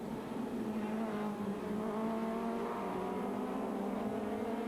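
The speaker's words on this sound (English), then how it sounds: "Colgiago in the 4-wheel drive Audi now challenging" A four-wheel-drive Audi supertouring car races in damp conditions in the 2000 season, its engine droning loudly as the pitch climbs steadily through the gears.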